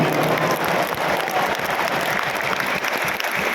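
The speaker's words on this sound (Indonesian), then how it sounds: "Tepuk tangan buat semua yang hadir di sini." A large campaign rally crowd at Jakarta International Stadium applauds for Anies Baswedan's final 2024 presidential campaign event, a broad, continuous roar of clapping filling the whole stretch with no voices standing out.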